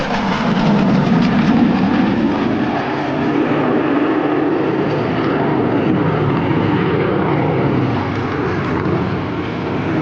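A USAF F-16 Falcon fighter jet flies a minimum radius turn at nine g, producing a loud, continuous engine roar that holds steady throughout with no speech.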